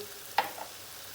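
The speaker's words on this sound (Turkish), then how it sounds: "Soğuk su ilave ettiğim gibi şöyle bir karıştırıyorum." Cold water is poured into a hot pan of leek borani and stirred, giving one brief, sharp sizzling burst followed by a softer hiss that quickly fades, with no voices.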